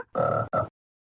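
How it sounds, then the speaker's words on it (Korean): Two short, loud croaks in quick succession, the first longer than the second, then silence. "개굴 개굴. 나는 개구리야."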